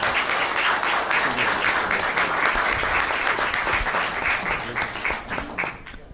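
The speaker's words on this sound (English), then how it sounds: "Please give her an extra round of applause." A council meeting audience breaks into dense, sustained applause, a roomful of hands clapping together steadily before thinning out and fading near the end.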